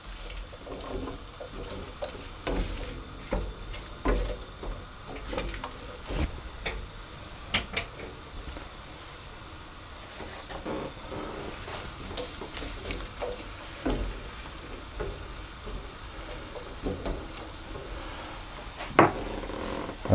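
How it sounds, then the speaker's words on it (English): Apples are tossed in melted butter in a pan, giving scattered soft clicks and light taps of fruit against the pan and utensil over a faint, continuous sizzle, with a sharper knock near the end. "I'm just going to toss the apples to get them coated in butter."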